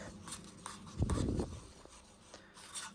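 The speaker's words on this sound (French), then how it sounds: "Je reprends ma touillette. Ah oui, non, faut pas mélanger vite ça." A stick stirring epoxy resin in a cup, a soft close scraping and rubbing that swells into a louder gritty stroke midway, then fades to faint intermittent scrapes.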